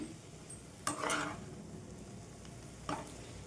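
Eggplant pieces are stirred with spice powder in a pan, a faint low sizzle with two or three brief scraping strokes, quiet and close, no one speaking.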